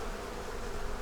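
Honey bees swarming out of a hive that has been pulled apart, a steady, dense buzz that holds close and fairly loud from start to finish, with no voices over it.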